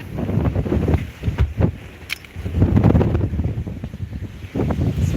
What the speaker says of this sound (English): This wind is like next level.